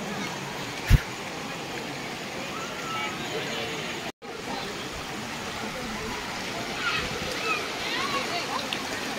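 Water rushes steadily at Pahine Necklace Waterfall near Trimbakeshwar, a dense continuous roar close by, with a single thump early on and a momentary dropout midway, while voices murmur underneath.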